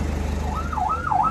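An emergency siren wails in a rising and falling pattern, mistaken for a police car, heard steadily at moderate distance over a low rumbling background with no talk.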